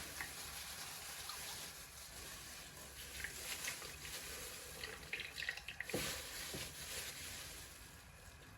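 Running water splashes steadily from a tap, with occasional sloshing and small knocks as fresh butter is rinsed in cold water under the stream.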